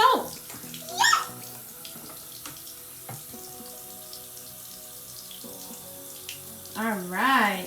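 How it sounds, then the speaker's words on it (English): Water running from a tap into a sink during handwashing, a steady moderate stream with small splashes, and a voice and brief talk rising at the start and end. "let's turn on the water"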